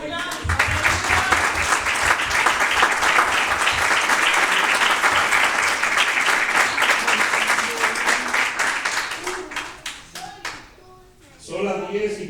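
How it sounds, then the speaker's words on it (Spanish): Rhythmic, energetic clapping and applause from a church congregation at a Spanish-language worship service, loud and sustained for about ten seconds before dying away, with a voice speaking briefly at the end. "Un aplauso."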